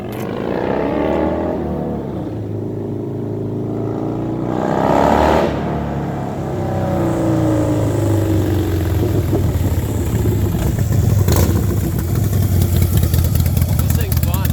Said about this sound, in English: That's a 110 cubic inch Dyna CVO. One of the fastest, actually the fastest motor they've ever put in a Dyna